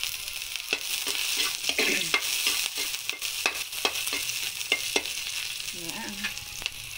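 Garlic for pancit bihon stirred and fried in a pan, a steady bright sizzle broken by repeated sharp scrapes and knocks of a utensil, close and fairly loud with no talking.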